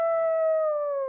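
A voice imitates a coyote howl, one sustained, smooth wavering note held for about a second, close and clear with no other sound.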